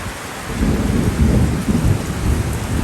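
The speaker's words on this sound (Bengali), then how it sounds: "প্রচুর বৃষ্টি হইতেছে, সাথে সাথে বজ্রপাত আছে।" Heavy rain pours over harvested paddy fields while low thunder rolls underneath, a loud, dense, continuous wash of rain with deep rumbling swells and no voices.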